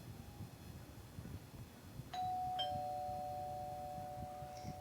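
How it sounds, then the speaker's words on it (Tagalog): A doorbell rings twice in quick succession, a bright two-tone chime that rings out and lingers over a quiet room with faint background noise. "That sound is from the doorbell."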